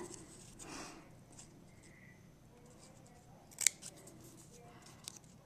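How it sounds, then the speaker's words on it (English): Scissors snipping the petal of a paper star while making a snowman gift tag, a few soft close cuts with one sharper snip, over faint room noise and no talking. "I took my scissors and I just took one of the longer petals off of the stars, or just cut back to make it longer, and just kind of snipped it"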